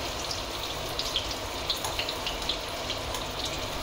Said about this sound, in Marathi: आता मी गॅस जरा बारीक करते आणि हा अगदी मंद आचेवरती आता ही आपल्याला फ्राय करून घ्यायची.